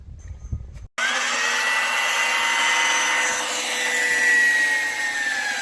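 A winch on a DIY cottage dock drones steadily as a split pulley hauls the dock up for winter, a loud continuous motor whine that starts abruptly after a brief rustle and holds throughout.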